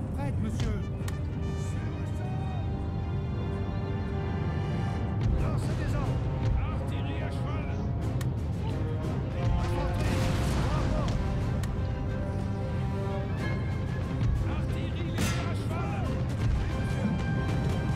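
Cannon and artillery fire in the video game Napoleon: Total War, with repeated booming volleys and crashing impacts layered over a battle soundscape for a sustained stretch.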